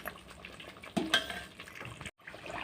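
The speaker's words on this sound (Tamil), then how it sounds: "வெண்ணெய் பிரிஞ்சு வர வரையும் நம்ம கிளறிக்கிட்டே இருக்கணும்." Butter is stirred in a pan while being cooked down into homemade ghee. Light scraping and utensil clinks sound over a faint sizzle, with a couple of sharper knocks before a brief cutout.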